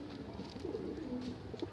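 Malwai pigeons cooing softly in a loft, a low murmuring coo repeating a few times at close range with faint background noise and no talk.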